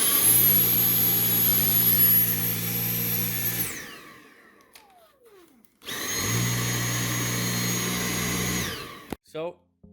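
A Dyson V8 Absolute cordless vacuum cleaner runs loudly on max suction with a high whine. It winds down, falls nearly silent, then spins back up to full power before shutting off with a few clicks.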